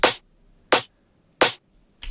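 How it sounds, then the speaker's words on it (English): Layered drum-and-bass snare sample built in Ableton from one main hit plus texture layers glued with saturation, struck alone about every 0.7 seconds as sharp, bright, noisy hits. "for the snare, it's just one main sample and then a couple of texture layers"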